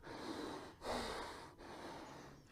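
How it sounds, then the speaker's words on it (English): Heavy nasal breathing during a home workout, two or three close, forceful sniffing inhales and exhales through a congested nose, with a short pause between breaths and no talking. "Nasal breathing, let's go."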